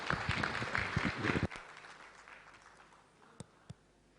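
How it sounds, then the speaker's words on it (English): A conference audience at ICTACT Bridge 2014 in Coimbatore applauds to welcome a speaker, a burst of clapping that thins out after a second and a half into a few scattered, fading claps. "let's welcome her with a huge round of applause"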